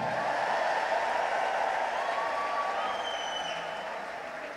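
A church congregation cheers at a sermon, with a broad roar of crowd noise and applause and thin high ululating trills rising above it, fading gradually near the end.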